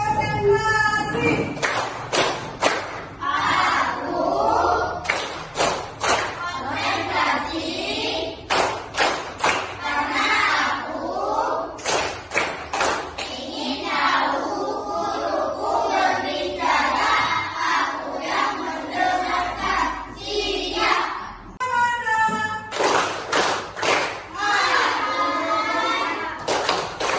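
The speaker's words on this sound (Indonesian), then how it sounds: "Untuk lebih bersemangat lagi, kita bertepuk tangan ya. Nah, oke, tepuk konsentrasi." Classroom children perform a rhythmic concentration clapping routine, crisp group claps in patterned bursts mixed with chanting voices, loud and close, continuing throughout with a brief pause near the end.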